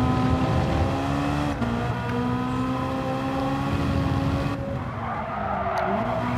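A Ferrari's engine roars steadily in Gran Turismo 7, a loud, sustained tone that holds at close range and shifts pitch slightly toward the end without a break.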